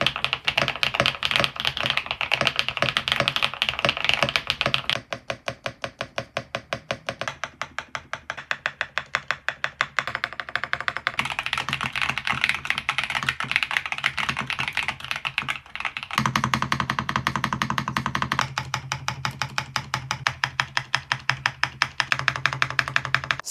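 Someone types on a Cidoo ABM081 Stellar keyboard in fast, continuous bursts of close, crisp keystrokes, the clatter running steadily with short pauses and shifts in tone.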